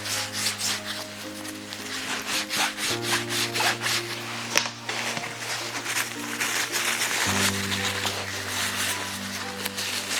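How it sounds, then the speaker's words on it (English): Cloth rubbing alcohol onto a motor shaft and the inner race of a bearing during bench assembly of a brushless motion pack for a one-sixth scale Panzer IV; steady close scrubbing strokes run throughout over a low hum, with no talk. "I'm going to clean the shaft and the inner race of the bearing with some alcohol."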